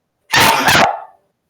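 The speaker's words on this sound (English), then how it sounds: "No, it's a sneeze. It's an allergy sneeze." One loud, close allergy sneeze bursts out in two quick parts, its echo fading into silence.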